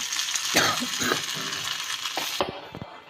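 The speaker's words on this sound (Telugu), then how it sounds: "ఇందులో పోపు అయితే పెట్టేసుకొని ఇలా వేసుకోవాలి" Hot tempering of oil with cumin, mustard seeds and dried chillies poured into chutney, a loud close crackling sizzle with sharp pops and spatters that thins out toward the end.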